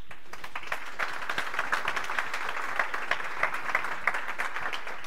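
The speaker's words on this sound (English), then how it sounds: "So give yourself a round of applause." A tech conference audience applauds, with a dense wash of clapping and sharp individual claps across the whole stretch, moderately loud and steady, without speech on top.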